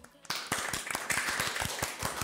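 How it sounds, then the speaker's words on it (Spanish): Audience clapping after a brief pause, a quick run of sharp, rhythmic claps from a small group, close and steady, with voices mixed in. "Un aplauso."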